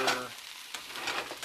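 A homemade stir-fry sizzles faintly in a pan as it is stirred, a low hiss with soft bursts of scraping, after a brief voice at the start.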